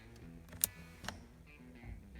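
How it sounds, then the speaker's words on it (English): A single sharp little pop as air is sent into the line to push the locking pin into the rear axle diff of a modified 1985 Toyota 4x4 pickup, close and brief, followed by a second softer click amid quiet. "That was the air being sent into the line to push the pin into the locking diff of the rear axle"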